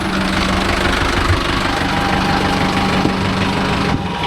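Mahindra Yuvo Tech Plus 585 4WD tractor engine idling, a loud steady mid-low diesel chug with knocking rhythm and tonal hum, a faint clunk near the end, no talking.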